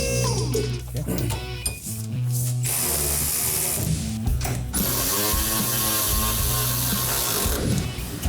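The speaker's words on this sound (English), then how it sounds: "start the nut and the washer. That's all you got to do. Tighten that down until I see." A ratchet clicks rapidly as it tightens a nut and washer onto the rear axle shackles of a Dodge Challenger in a garage. The ratcheting is loud, close and continuous, with gaps between runs and voices talking over it.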